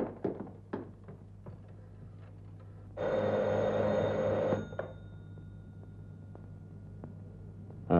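An old telephone bell in a Turkish Yeşilçam film rings in one sustained burst of about two seconds, loud and close, set among scattered knocks and taps with no talk.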